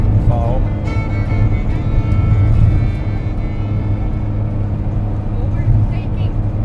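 A camper van drives on a snowy road near Vaasa in Finland, its steady engine and road rumble droning throughout while people talk over it.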